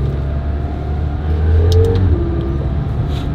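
A McLaren 720S sports car accelerates on a race track, its engine a steady, loud mid-range drone that swells and rises in pitch around the middle before settling, with no voices over it.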